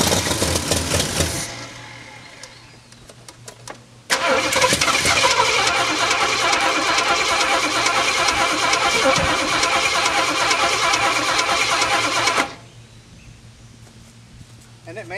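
An M715 military truck engine cranks briefly, stops, then catches and runs with a loud, steady roar for about eight seconds before cutting off, leaving a quiet low hum.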